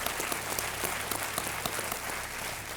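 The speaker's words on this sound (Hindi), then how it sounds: "और तालियों के साथ अभिनंदन।" Studio audience applause on the KBC game show, a steady dense wash of clapping at moderate level lasting the whole moment without talk.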